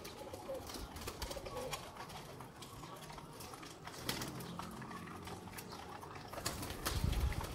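Pigeons in a rooftop loft coo softly amid a busy outdoor background, with occasional wing flutters and a louder low cooing burst near the end.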